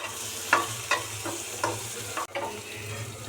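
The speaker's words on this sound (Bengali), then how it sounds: "শিমলা মির্চটা, পেঁয়াজটা এটা একটু ভালো করে একটু ভেজে নেব।" Capsicum and onion fry in butter, a steady close sizzle with about five distinct scraping strokes of a spatula against the pan at a slow, even pace, and no talking.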